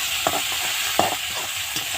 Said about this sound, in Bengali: দেখো পেঁয়াজ কলিটা দিয়ে একটু ভেজে নিলাম।